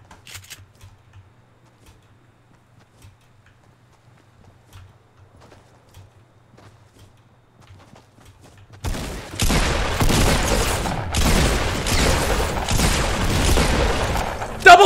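Pump shotgun blasts in the Fortnite Solo Blitz Showdown mode erupt after a near-silent stretch, a dense run of loud, rapid shots filling the last six seconds with no voice over them.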